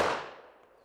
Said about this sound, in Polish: Uwaga, to jest pistolet dynamiczny, bardzo szybko strzeli.